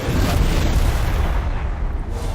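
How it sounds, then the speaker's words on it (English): A Vol's Anvil strike in Total War: Warhammer against city walls and siege equipment, a loud, heavy, sustained rumbling blast that fills the whole moment without a break. "Use Vol's Anvil over here. The powerful explosion affects city walls and siege equipment."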